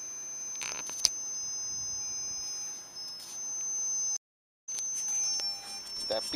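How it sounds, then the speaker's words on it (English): Motorola point-to-point microwave backhaul radio emitting a steady, piercing electronic warning tone that runs almost continuously, with a brief dropout and scattered handling clicks in a quiet room. "So it's a warning beep of some sort. Troubleshooting beep."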